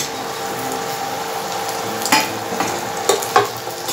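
Tomatoes stirred and sautéed with onion and paste in a pan for palak paneer bhurji, a steady sizzle of frying under scraping stirs, with a few sharper utensil knocks near the end.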